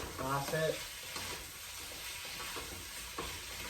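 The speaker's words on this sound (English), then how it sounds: "now I'm going to add the rest of this scallion to the mix. I'm going to toss it, evenly toss it" Ginger pork and scallions sizzle and fry in a hot pan as they are tossed, a steady close crackle with a brief louder stirring burst near the start.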